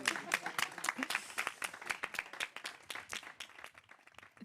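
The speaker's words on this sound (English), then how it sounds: "a big round of applause for all of our speakers" Audience applause for the speakers at an outdoor public discussion event in a park, a dense burst of many hands clapping close by, steady and then gradually thinning toward the end.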